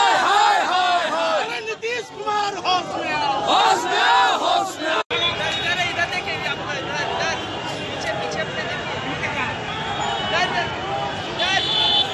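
Large crowd of Mahagathbandhan party leaders and workers marching toward Raj Bhavan in Patna to protest against the government, chanting slogans loudly and continuously with overlapping voices and street noise throughout.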